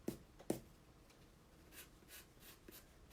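Pencil eraser rubbing over a drawing of a selkie's hair, a few faint, quick scrubbing strokes in irregular bursts, close and quiet.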